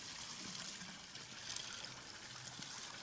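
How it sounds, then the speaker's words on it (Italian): A village water fountain on a mountain trail in the Monti Sibillini runs steadily, its broad, continuous trickling and splashing filling the clip at moderate level with no talk over it. "Questa è la fontana del paese. Acqua freschissima"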